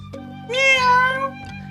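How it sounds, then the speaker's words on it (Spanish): A cat gives one clear, loud meow lasting about half a second, rising and then falling, over a low steady hum, with brief clicks before and after. "¿y este animal qué sonido produce? Miau."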